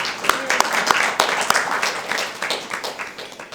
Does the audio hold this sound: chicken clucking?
no